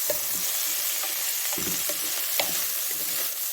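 Rice and onion with salt sizzle in a frying pan while being stirred for sayadieh rice. A steady frying hiss runs throughout, broken by repeated scraping strokes of the spoon at a regular pace.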